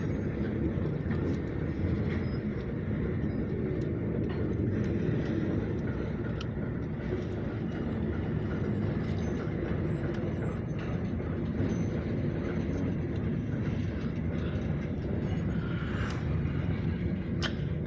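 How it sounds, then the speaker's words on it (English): Alco 85 locomotive hauling a grain hopper train, a steady distant rumble of rolling cars and engine drone that stays fairly faint and even throughout, with no voices. "We got at least some of the hopper train and the Alco 85."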